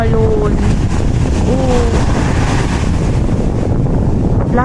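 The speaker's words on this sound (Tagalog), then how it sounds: "Grabe guys, ang lakas ng alon." Strong ocean waves crash onto a beach in heavy wind, a constant loud roar of surf and wind buffeting the microphone, with brief voices and an exclamation over it.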